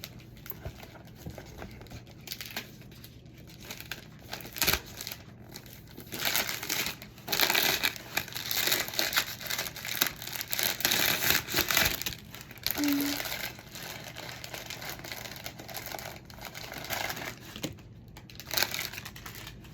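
Gift wrapping paper crinkles and crushes in soft, irregular rustling bursts while a present is unwrapped, fairly faint and close, with no voices.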